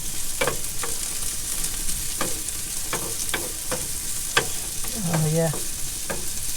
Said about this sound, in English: Let me stir this a little bit.